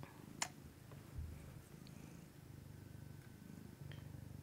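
A pet cat purrs softly and steadily nearby, a low continuous rumble with a couple of brief faint clicks breaking the quiet.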